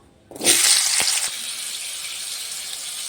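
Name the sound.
potatoes frying in oil in a wok with salt and turmeric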